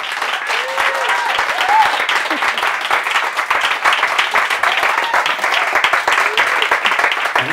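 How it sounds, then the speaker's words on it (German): A live audience applauds a guest at a Scaramouche event featuring Peter Freestone, a steady dense roar of many hands clapping throughout with no pause. "Und jetzt bitte ich, glaube ich, um den größten Applaus, den ihr aufbringen könnt"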